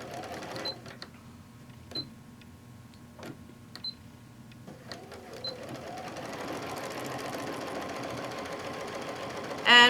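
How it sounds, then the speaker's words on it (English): A sewing machine running a straight stitch along a pillowcase, first a few short taps and pauses, then a steady continuous whir building toward the end, close and moderately loud, no voices. "we're going to line up on our basic straight stitch"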